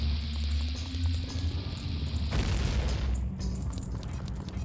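In Ocarina of Time, a bomb goes off mid-way as a sudden broad blast that cuts through a steady low game drone, followed by a short dip and then the ambient hum resuming, with no talking.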